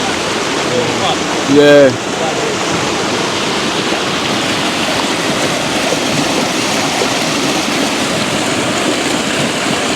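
Water rushes steadily as from a stream or small waterfall, a loud, continuous broadband wash with one short spoken word near the start.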